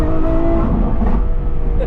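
A street car pulling hard under acceleration, its engine roaring loudly and continuously up close with a dense, rising drone throughout.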